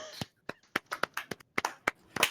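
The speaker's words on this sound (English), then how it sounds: "Clap. Clap noises." A handful of sharp hand claps ring out irregularly in a quiet room, close and fairly soft, with brief gaps between groups of claps.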